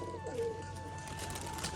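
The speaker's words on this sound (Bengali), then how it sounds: "কিন্তু গোপাল ভাই সেই রাজশাহী কবুতর নিয়ে তো ফার্স্টে দেখাও" Rajshahi pigeons cooing softly in a loft, a brief low coo standing out early against steady background hiss and chatter.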